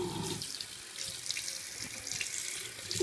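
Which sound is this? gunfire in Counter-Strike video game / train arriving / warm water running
warm water running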